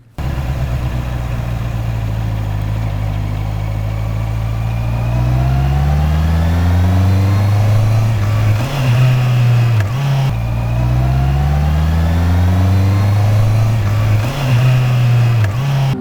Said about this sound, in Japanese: なんとシフトダウンの空ぶかしをやるのができるようになってきた